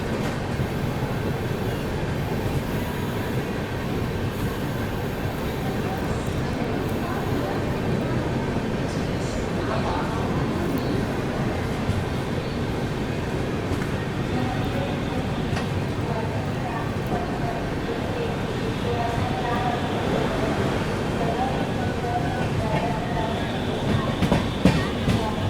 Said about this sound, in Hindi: चले यहाँ पर अपनी लिच्छवी एक्सप्रेस ने स्किप कर दिया दोस्तों बनारस रेलवे स्टेशन को।